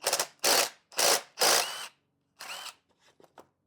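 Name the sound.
loosening chainsaw bar nuts with a wrench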